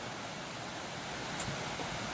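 Moccasin Creek, an Appalachian mountain stream on the trail to Hemlock Falls in northeast Georgia, rushes in a steady, even wash of flowing water with no voices over it.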